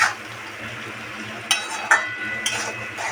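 Spices frying in oil in a pan for a Bengali patal (pointed gourd) curry, a soft steady sizzle with a few sharp clinks and stirring scrapes of a utensil against the pan.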